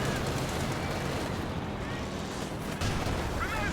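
Tank cannon and gunfire from a Cromwell engaging a Panzer IV in the Company of Heroes 2 game, a dense continuous rumble of battle noise with a louder burst near the end, mixed under commentary.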